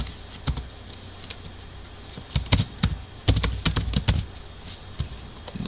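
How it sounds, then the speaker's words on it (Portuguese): A computer keyboard clatters as HTML is typed, with irregular bursts of crisp, close keystrokes, sparse at first and then quicker runs with short pauses between. "eu poderia digitar aqui o HTML"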